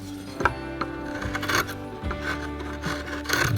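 A larger curved gouge carving wood for a figure of an ebonized man: close scraping and rubbing cuts in irregular strokes, with occasional light knocks of the tool.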